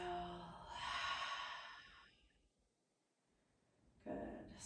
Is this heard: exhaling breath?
yes